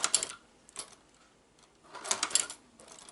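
A shoe patcher sewing machine stitches Vans sneakers in short, quiet mechanical bursts, a quick run of stitches followed by a pause and then another burst.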